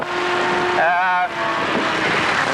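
An in-car racing engine drones loud and steady during the 1982 Bathurst race, with a brief rising harmonic whine midway and a voice speaking over it.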